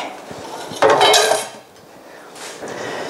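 Dishes and pots clatter and clink as they are cleaned up while kimchi soup is cooking, a loud burst of metal and ceramic knocks close by, then quieter handling, with no talking.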